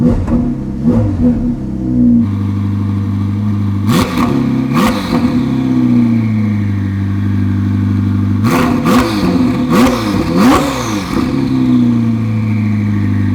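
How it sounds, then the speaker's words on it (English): A Ferrari 488 Challenge Evo race car engine idles loudly, then revs sharply in a few quick bursts, settles, and revs again in another pair of surges. "I'm just gonna give a slight rev to show you guys how it sounds"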